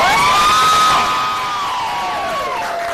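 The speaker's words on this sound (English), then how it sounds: "Gov Michelle Lujan Grisham was applauded this morning by women and activists" Women and activists cheer and whoop loudly as the governor signs a reproductive healthcare bill, a crowd of high voices rising together in sustained shouts that fade slightly toward the end.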